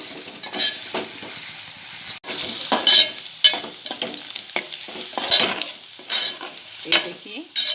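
Onion fries in hot oil until soft, a loud, close sizzle with frequent scraping stirs and the clatter of a spatula against the pan.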